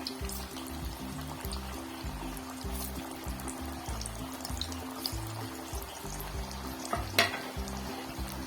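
Hara bhara kababs, vegetarian Indian starters, shallow-frying in hot oil, giving a steady close sizzle and crackle that continues throughout with faint background clinks and no speech.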